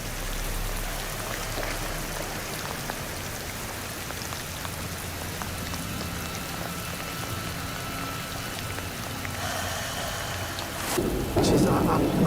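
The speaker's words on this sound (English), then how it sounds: "I can't remember experiencing rain that hard for that long." Heavy rain pours down without letup in a steady, dense roar outdoors, with low rumbles underneath and a burst of louder splashing near the end.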